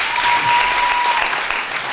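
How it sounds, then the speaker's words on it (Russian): Audience applause on a Russian talk show, a steady burst of clapping lasting about two seconds, fairly loud and heard on its own. "Аплодисменты, да?"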